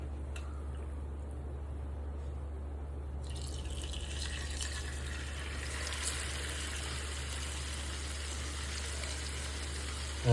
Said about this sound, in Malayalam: ആ സെയിം എണ്ണയിൽ തന്നെ നമുക്ക് പ്രോൺസും ഫ്രൈ ചെയ്തെടുക്കാം കേട്ടോ.